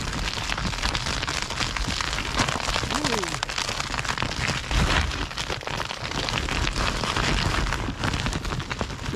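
Steady, dense rain falls in snowy woods, pattering and hissing continuously, with a low rumble underneath and faint voices now and then.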